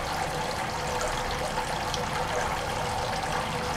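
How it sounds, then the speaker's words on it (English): Water streams up through a hydroponic planting system with plant roots down in it, a steady continuous pouring and trickling wash that stays close and even throughout. "And you can see here comes the water up through."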